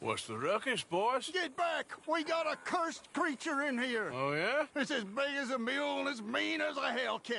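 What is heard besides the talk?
No distinct noise like a dog, phone or traffic.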